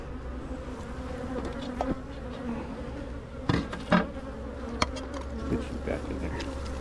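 Honeybees swarm around a beehive, a dense close buzz humming continuously with a few sharp knocks and bumps against the camera, no speech.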